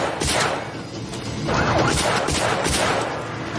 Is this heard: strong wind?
no